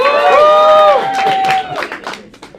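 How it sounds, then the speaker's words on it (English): A theatre audience at The Ledge Theatre cheers and whoops loudly, with a high voice-like whoop rising and falling before a broader burst of crowd noise that gradually fades. "I want you to all cheer"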